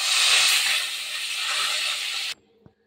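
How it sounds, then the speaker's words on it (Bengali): Pumpkin and eggplant pieces fry in hot oil with a loud, steady hiss and sizzle that cuts off abruptly, leaving near silence and one small tap. "তো সবার আগে আমি একটুখানি এই কুমড়ো বেগুন এগুলো একটু ভেজে নেব"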